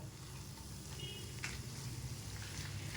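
Tomatoes sautéing in a pan for mint chutney give off a steady, close sizzle and crackle of frying that continues without a break and with no talking.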